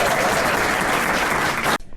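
Wedding guests at Logie Country House break into loud, dense applause for the newlyweds. It runs steadily, then cuts off abruptly near the end.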